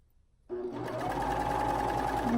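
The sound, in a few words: sewing machine struggling to sew over a thick shoulder seam with elastic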